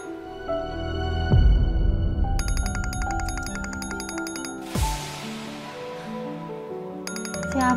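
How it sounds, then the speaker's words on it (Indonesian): A phone ringtone rings at night, a repeating bright electronic melody with rhythmic bursts, loud and close, playing alone over soft music with no talking. "Siapa sih telepon malam-malam gini ganggu orang tidur aja ah."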